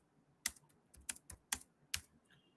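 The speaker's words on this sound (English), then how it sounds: "if I type who am I come back here and type who am I" Typing a short command on a computer keyboard during a cybersecurity lab demonstration; about half a dozen crisp, close key clicks in an uneven rhythm, fairly quiet, with no talk.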